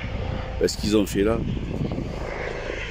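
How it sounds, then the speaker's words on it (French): A helicopter passes near the Purpan hospital helipad, its steady rotor drone running under a man's speech throughout. "Ah oui, c'est là c'est un hélicoptère."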